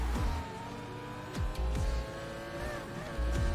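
Engine whine from a racing video game car, fairly faint, with repeated quick gear-shift drops and rising pitch as it accelerates, continuous with no talk.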